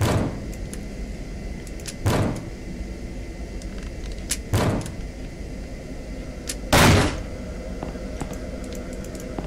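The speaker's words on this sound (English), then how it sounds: "let's ram this door again" Heavy thuds of a door being rammed in an indie horror video game, three forceful broadband impacts spaced a few seconds apart, the last one loudest, over a steady low ambient drone.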